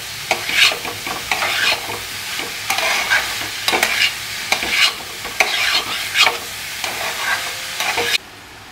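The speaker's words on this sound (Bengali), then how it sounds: "ভালো করে নাড়িয়ে নেব।" Boiled, drained cabbage being stirred into spiced potatoes in a hot pan: a steady run of close scraping strokes over a soft sizzle, ending abruptly near the end.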